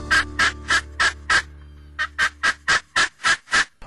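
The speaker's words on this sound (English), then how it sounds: "We had a couple great gobblers in front of us" Wild turkey gobblers on a Missouri hunt, a loud close series of rapid rattling gobbles repeating in rhythmic bursts, with a short pause before another run.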